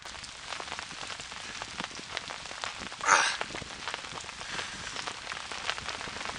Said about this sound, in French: Sous une pluie battante.